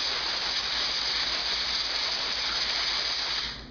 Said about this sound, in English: If you have access to an air compressor, which I have right here with blow nozzle